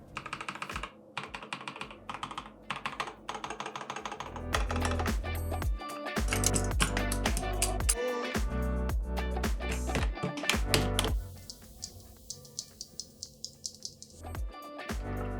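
Steady typing on an inexpensive keyboard fitted with replacement switches, a dense run of close, crisp keystroke clicks that gets louder and busier in the middle, then thins to sparser taps.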